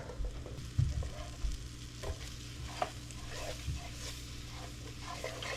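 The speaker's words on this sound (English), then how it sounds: "So I'm just gonna add another patty of butter in there." Butter sizzling and frying in a pan while cooking broccoli cheddar soup, a steady close crackle with occasional stirring clicks and scrapes, no talking.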